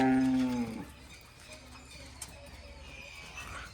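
A cow moos loudly and close at the start, a single drawn-out low call, at feeding time on a farm with cows and buffaloes, followed by quieter farmyard ambience with faint clip-clop and distant birds.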